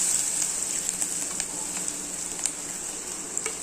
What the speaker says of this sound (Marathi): आता आपण वांग टाकूया